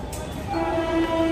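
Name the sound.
train standing at station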